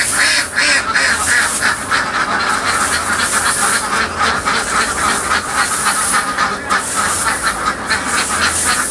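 A flock of egg-laying ducks quacks loudly and continuously on a duck farm, dense overlapping calls forming a steady wall of noise.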